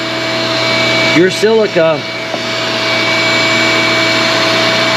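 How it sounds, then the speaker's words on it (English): A shop vacuum runs steadily and loudly throughout while silica filler is mixed for boat stringers, a constant whining drone with someone speaking briefly over it. "the vacuum will help catch any stray dust"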